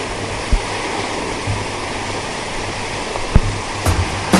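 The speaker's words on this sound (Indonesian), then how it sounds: "saya mundur lagi pemirsa karena ombaknya terlalu dekat" Ocean surf rolls in at Batu Karas beach at night in West Java, a continuous broad wash of breaking waves close by, with occasional louder thumps as water surges near.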